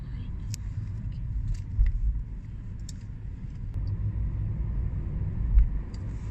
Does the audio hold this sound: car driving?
yes